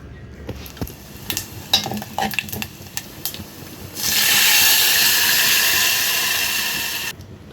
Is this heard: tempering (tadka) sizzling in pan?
yes